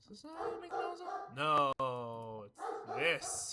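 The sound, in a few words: dogs barking in the background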